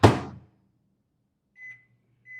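A microwave oven softening lemons for juicing: a loud door thunk at the start, then quiet running hum and two short electronic beeps near the end.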